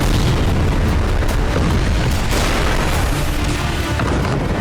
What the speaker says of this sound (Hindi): घातक मिसाइलों और ग्लाइड बमों के हमलों से धरती को दहलाया